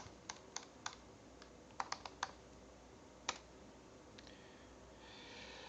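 Keystrokes on a computer keyboard, typed while configuring a network in software: a scattered run of sharp, close clicks with short pauses and one firmer tap, over a quiet room hiss.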